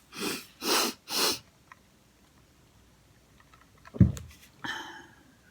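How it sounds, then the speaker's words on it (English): Three short, sharp bursts come in quick succession, followed after a pause by a heavy sneeze and then a sniffing breath. "I feel a sneeze coming on."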